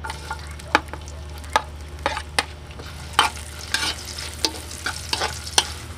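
Ginger sautéing in hot oil in a pan, a continuous close sizzle broken by repeated sharp scraping stirs at irregular intervals.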